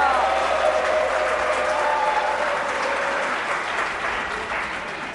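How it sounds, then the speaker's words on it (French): Applause from a live audience at a wrestling tournament final in Burkina Faso greets a competitor from the Boucle du Mouhoun region, sustained and dense from start to finish and easing slightly toward the end. "que je vous prie une fois de plus d'applaudir très très fort"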